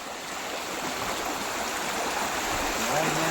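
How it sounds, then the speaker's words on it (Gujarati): Water surges through a broken check dam after heavy inflow, making a broad, continuous roaring rush that swells slightly louder toward the end, heard outdoors close to the flow. "પાણી તો બહુ સારું આવે સામે તૂટી ગ્યો છે શેક ડેમ"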